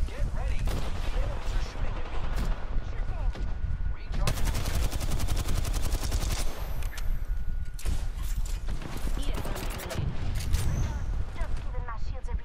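Gunfire in the video game Apex Legends, with rapid automatic bursts and single shots crackling almost continuously at close range, while players talk over the action throughout.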